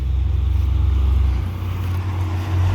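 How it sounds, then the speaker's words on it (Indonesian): A heavy truck engine rumbles loudly and continuously nearby as a large truck passes on a road beside a city forest park in West Sumatra, its low drone swelling and easing slightly. "Masih banyak truk yang lewat sini teman-teman."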